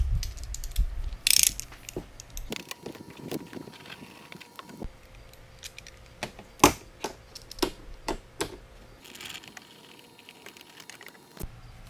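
A ratchet works bolts loose on a Yamaha Grizzly Kodiak 450 ATV, with rapid clicking runs in bursts, sharp metallic knocks between them, and close, loud mechanical sounds with quiet pauses.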